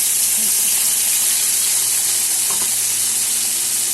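Spice paste of green chilies, tomato, ginger and garlic hits fried potatoes in hot oil, producing a dense, constant loud sizzle close up, with only faint stirring beneath and no talking.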